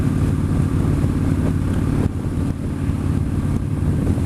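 A Yamaha Striker motorcycle cruising on a Saturday afternoon in San Antonio, Texas, its engine a steady low rumble under heavy wind buffeting, loud and continuous with brief dips.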